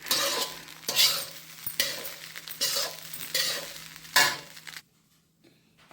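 Freshly cooked egg rice stirred while still hot, with repeated scraping, clinking strokes in a steady rhythm, close and fairly loud, falling quiet near the end.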